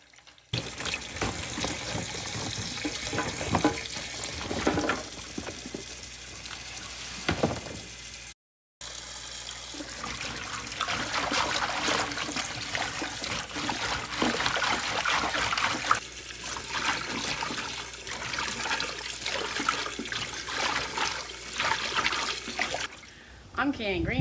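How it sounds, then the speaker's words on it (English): Green beans being swished by hand in a sink filled with cold water, producing steady trickling, sloshing and splashing close by, with a brief gap and quieter stretches throughout. "I filled my sink with cold water. I agitated the green beans in there"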